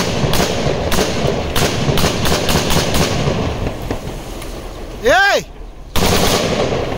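A Krinkov rifle is test fired, with loud, close shots that crack in a rapid full-auto stream, then a short gap and another blast. A brief voice rises near the end.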